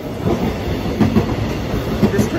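A train pulling away from a station platform en route to Hanyang University, a steady rumble of rolling stock with rhythmic wheel clatter rising at regular intervals, close and continuous with no talking.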